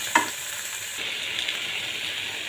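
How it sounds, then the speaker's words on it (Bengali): Taro stolons fry in a pan, sizzling evenly and steadily, with a brief scrape of stirring near the start. "এখন আমি এতে এই কচুর লতিটা ঢেলে দেব। এখন নাড়াচাড়া করে নেব কিছুক্ষণ"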